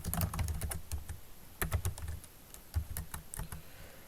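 Keyboard typing as a heading is entered into an Excel spreadsheet: quick bursts of key clicks in uneven runs, with short pauses between words, fairly close and clear with no talking.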